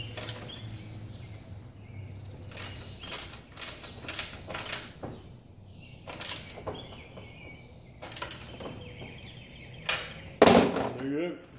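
Nuts on the rear wheel of a child's bike being tightened with a wrench, giving a string of close, short ratcheting and creaking bursts in uneven groups, with a sharper clank near the end.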